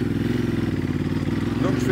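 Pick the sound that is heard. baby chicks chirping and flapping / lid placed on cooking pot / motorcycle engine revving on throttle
motorcycle engine revving on throttle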